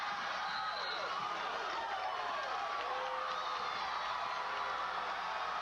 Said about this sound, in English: The crowd really gets into it, letting them know.